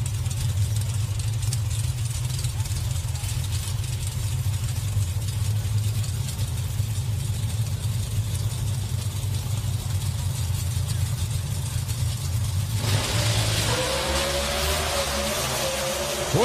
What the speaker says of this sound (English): Troy's car drives to the left and he nudges her back over to the right.